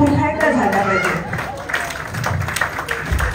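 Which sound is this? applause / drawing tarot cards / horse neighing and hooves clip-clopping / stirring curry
applause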